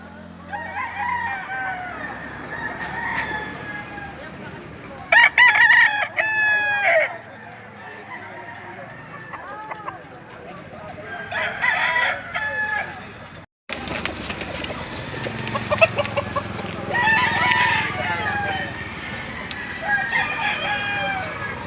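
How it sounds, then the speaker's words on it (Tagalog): Roosters crow repeatedly amid clucking chickens at the Lipa livestock auction market, loud and nearby, with people talking intermittently throughout. "Yan yung mga namang manok dito."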